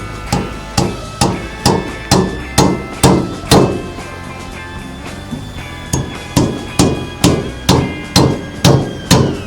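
A hammer drives a nail into a mud brick with sharp, evenly spaced metallic blows, a steady run of about a dozen strikes, a pause, then another run, loud and close.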